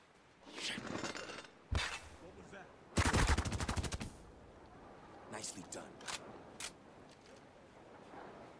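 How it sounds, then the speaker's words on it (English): Gunfire bursts in Spec Ops: The Line: a single sharp shot, then a rapid rattling volley of about a dozen close shots, followed by scattered fainter single shots and clinks. "So, shooting him 30 times is fine."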